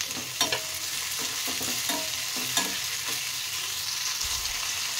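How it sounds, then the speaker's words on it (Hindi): Tomato, capsicum, ginger and green chilli frying in a pan for paneer makhani, a constant sizzle broken by quick scraping stirs and light knocks of the spoon on the pan. "एबे हमें हल्का फ्राई कर देबा। एबे देखो सांग माने हमें टमाटो को पकई देबा।"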